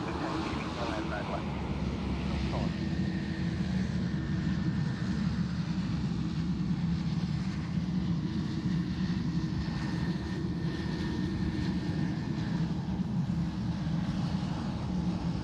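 An all-white Jetstar Airbus A330 at Sydney Airport, a steady, moderately distant engine rumble that holds level throughout, with a faint tonal whine above it.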